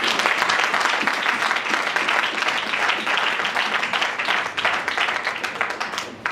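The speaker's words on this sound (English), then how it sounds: "Let's clap our hands for Jesus." A church congregation claps their hands during a Sunday sermon, a dense, steady wash of many hands sustained loudly throughout, with no talk over it.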